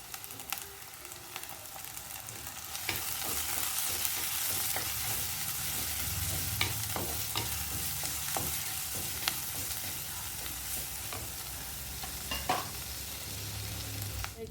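Curry leaves, green chillies and shallots sizzle steadily in hot oil for a pallathi fish coconut-milk curry, with scattered ladle scrapes and clinks through the continuous frying hiss.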